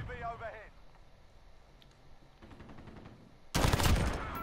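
Burst of video game gunfire from a shooter, loud and broadband, hitting suddenly near the end after quieter stretches with faint talk and scattered in-game clicks.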